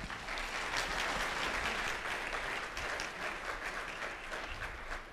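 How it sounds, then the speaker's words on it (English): Audience applause for a speaker at a LIFTx 2018 event at MacDill, steady, full clapping from a large crowd, heard at a moderate distance and without any voices. "So please give a round of applause for Mr. Video."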